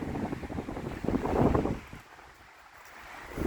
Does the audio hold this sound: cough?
no